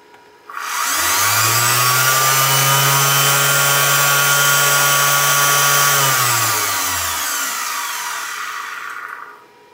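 A vacuum cleaner motor fitted with ceramic bearings, run at 40 volts, starts abruptly, holds a loud steady whine with a low hum for several seconds, then winds down smoothly as it spins to a stop.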